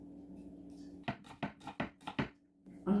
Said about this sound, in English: I'm just chopping the onion up quite roughly